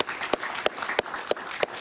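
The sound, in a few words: studio audience applause for a guest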